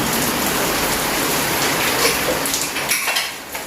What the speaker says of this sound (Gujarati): અત્યારે બપોરે વરસાદ આવી જાય છે